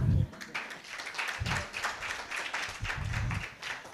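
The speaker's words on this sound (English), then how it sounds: "That clap is not very encouraging." Sparse, lukewarm audience applause at a formal health-policy event in Nigeria, a thin patter of scattered hand claps that stays fairly quiet and steady for a few seconds, with low murmurs underneath.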